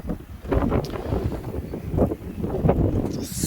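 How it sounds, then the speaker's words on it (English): Strong wind roars steadily during a snowstorm in Edmonton, Alberta, Canada, a loud continuous gusting rush with heavy buffeting noise on the microphone and no speech. "it's super cold and very windy."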